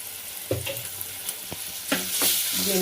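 Onions and garlic paste fry in a pan with a steady close sizzle, punctuated by a few sharp spoon-against-pan knocks and stirring scrapes, no voices.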